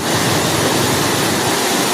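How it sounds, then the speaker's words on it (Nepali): The swollen Bagmati river rushes below Narayantar bridge, a loud, steady roar of fast-flowing water that fills the whole moment without a break. "यो चाहिँ नारायणटारको पुलबाट खिचिएको बागमतीको पानीको बहावहरू हो"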